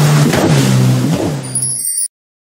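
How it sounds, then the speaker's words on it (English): Jet ski engine revving loudly up close, its pitch rising and falling in two surges over about two seconds before cutting off abruptly. "Jet ski."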